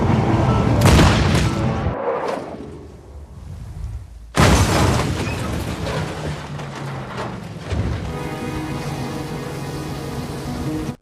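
Loud, booming gunfire in a tense film scene: a burst of sharp shots, then a pause, then more heavy blasts over rumbling action noise, with no talking.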